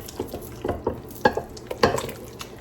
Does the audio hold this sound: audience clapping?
no